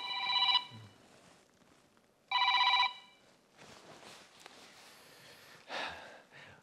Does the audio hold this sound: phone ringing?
yes